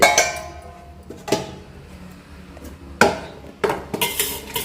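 Pots, pans and metal utensils clang and scrape while food is cooked in the morning for a temple festival, giving several loud sharp clanks spaced apart with softer stirring and clinking between.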